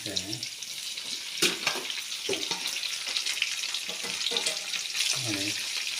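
Fried onions and capsicum tipped into a hot pan for chicken Manchurian set off a steady, close sizzle with crackling bursts, while a person talks intermittently over it.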